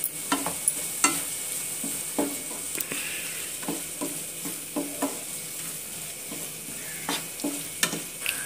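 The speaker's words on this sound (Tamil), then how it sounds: "நல்லா வதக்கணும் நல்லா மூளை வேகணும்" Goat brain sautéing with salt and turmeric in a pan, a steady close sizzle broken by repeated scraping stirs of a spoon against the pan, with no one talking.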